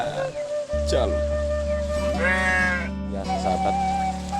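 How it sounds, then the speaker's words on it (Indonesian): Sheep bleating in a Sundanese village, several wavering calls carrying over a steady low engine-like drone, with a faint voice in the background. "Wah, domba jalur."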